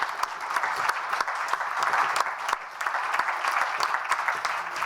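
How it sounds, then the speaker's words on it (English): Applause from the audience at a European responsible housing finance summit in Prague, lively clapping with distinct individual claps that rises, dips briefly midway, then carries on at moderate distance. "And the applause now."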